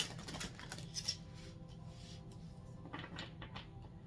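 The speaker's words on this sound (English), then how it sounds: "Last shuffle here before we split the deck." Soft, papery riffling of a tarot deck being shuffled, a brief flurry near the start and another near the end, faint and close with low background hum.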